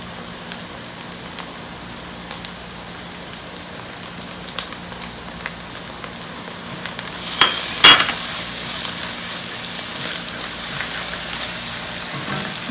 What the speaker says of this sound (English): So now I will add garlic ginger paste,